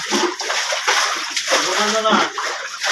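Bucketfuls of rainwater flood are splashed out of a flooded shop, loud sloshing throws and spatters close by, with voices talking in the background.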